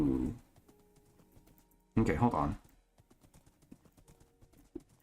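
Horse hooves clip-clopping in the Minecraft video game, a light run of hoof taps coming in bursts between and after a person talking, with small scattered knocks through the quieter stretch.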